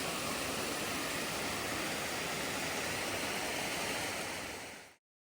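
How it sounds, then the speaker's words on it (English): A pretty waterfall roars in a steady, dense wash of falling water, close and even throughout before cutting off abruptly. "getting another video over here of this pretty waterfall because it's super cool"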